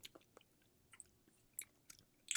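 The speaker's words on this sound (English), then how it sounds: "Everyone can sit through the sound of us chewing for a second." Someone chewing a green gummy candy close up, with soft, irregular wet smacks and squishes and a few sharper clicks over near-silence.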